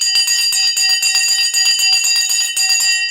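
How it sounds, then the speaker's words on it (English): A stock market opening bell ringing continuously as a rapid, steady electric clang with fast repeated strikes and sustained metallic overtones, loud and close, alone for a few seconds. "The bell has gone."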